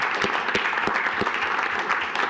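Attendees at a Royal Oak City Commission meeting give a steady round of applause, a dense continuous patter of many hands with a few sharper claps standing out.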